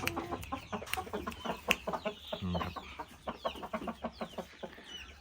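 A young Saigon-breed rooster, about five months old, clucks close up in a steady run of short repeated calls, with other fowl sounds around it.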